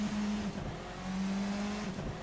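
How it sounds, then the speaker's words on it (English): Formula 4 race cars in a racing video game roll out onto the Fuji circuit with a continuous, steady engine drone whose pitch dips and rises slightly, moderately loud and with no talking. "We have our first cars making their way out onto the track."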